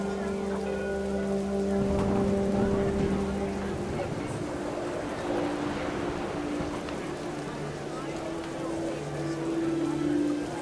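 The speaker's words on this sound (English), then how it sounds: "The rain came down in buckets then," Heavy rain pours down in a steady, dense hiss that lasts throughout, with faint low tonal hums running underneath.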